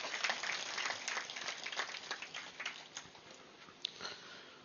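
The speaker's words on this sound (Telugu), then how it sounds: "గట్టిగా చప్పట్లు కొడదాం వారిద్దరికి" A seated audience at a meditation gathering in Draksharama claps for two teachers, a fairly faint, distant burst of applause that tapers off over several seconds.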